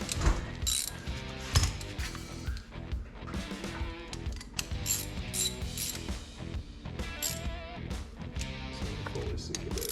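Bolts snugged down by hand while assembling a 12 bolt rear end, a quick ratchet clicking in bursts close to the mic, mixed with metallic clinks of parts and tools.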